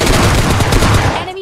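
An M416 rifle fires a loud, rapid automatic burst in a video game, close up and continuous for over a second before cutting off.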